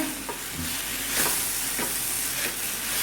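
Potatoes with curry leaves sauté in a pan for a simple spicy potato fry, giving a steady, close sizzle with occasional soft stirring scrapes and no talking.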